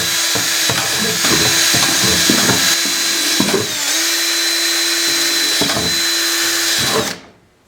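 A power drill bores a series of holes in a homemade worm bin: a loud, steady whine runs almost unbroken for seven seconds, broken by short bursts of chatter as the bit punches through, then cuts off abruptly.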